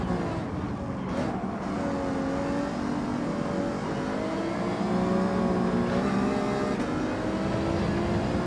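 Race car engines in Gran Turismo 7, including a Supra, whine continuously through rising and falling gear revs as cars battle closely, with no talking.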